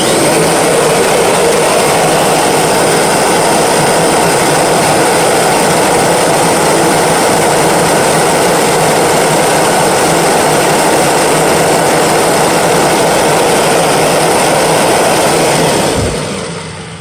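A Kirby G3 vacuum motor runs loud and steady with a dense whooshing roar while its commutator is polished, then winds down at the very end.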